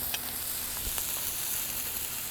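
Steak seasoned with salt and pepper searing in an Ooni pizza oven turned down to low, giving a steady close sizzle with faint crackles, no talking.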